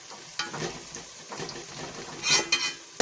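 Onions fry in a pan as a spoon stirs them until brown: soft sizzling under scraping strokes of the spoon, with a few louder clinks against the pan near the end.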